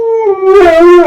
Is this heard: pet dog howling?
yes